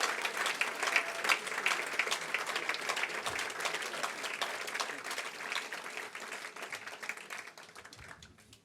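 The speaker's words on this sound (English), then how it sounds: "let's give them a round of applause and show them how much we appreciate all of this" An audience at a conference event gives a sustained round of applause, a steady wash of many hands clapping at moderate distance that slowly fades toward the end.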